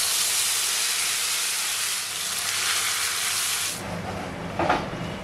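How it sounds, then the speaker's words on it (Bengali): Ginger and green chilli paste sizzles in hot tempering oil: a steady, loud frying hiss that drops and changes tone partway through, close up and continuous, with no voices. "ফোড়নটা দিয়েই কিন্তু আমি এই পেস্টটা দিয়ে দিচ্ছি।"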